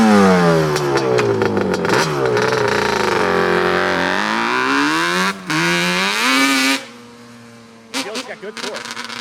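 A 1990 Yamaha Banshee ATV with a rebuilt engine revs hard nearby while it is ridden. A loud, rising two-stroke wail climbs and falls over several seconds, then cuts to a quieter idle with brief blips.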